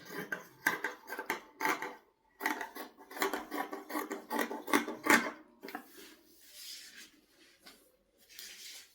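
Scissors cut through fabric for skirt pockets in a series of short, crisp snips, clustered in quick bursts with brief pauses, then softer rustling toward the end.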